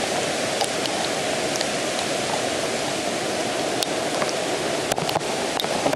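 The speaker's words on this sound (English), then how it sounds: "we can't see or can't hear much because of the waterfall is very loud" A loud waterfall in a green, mossy forest in Ireland, a close, constant roar of rushing water that fills the whole stretch without letup and with no talk.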